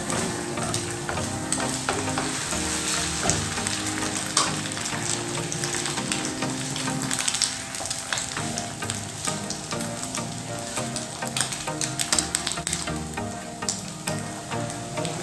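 Eggs sizzle and fry steadily in a hot pan as they set for quick noodles, a dense close crackle with occasional stirring scrapes, no voices.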